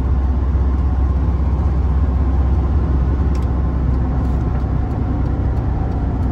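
Inside a GMT 800 pickup truck with a 5-speed manual gearbox and nearly 300,000 miles on it, a steady, loud, low engine and road drone continues while it drives, with no talking.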